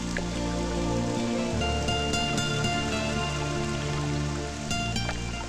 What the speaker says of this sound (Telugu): వర్షం ఇలాగే పడుతుంటే ఎంత బాగుంటుందో కదా